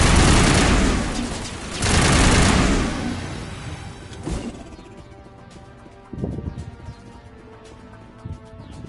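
Heavy bursts of gunfire from the video game Mass Effect roar close and loud at the start, then thin out into scattered shots and a brief later volley over lingering ambient noise.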